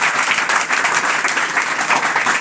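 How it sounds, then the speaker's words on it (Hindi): A classroom audience of students applauds together, a dense, continuous round of clapping that holds steady from start to finish without any speech. "इसके लिए तो मैं अपने बच्चों से कहूँगा कि इनके लिए एक ताली हो जाए"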